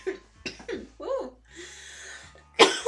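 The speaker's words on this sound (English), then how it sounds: "Got me coughing just a little bit." A short burst of coughing up close, with a few breathy hacks followed by a louder, harsher cough at the end.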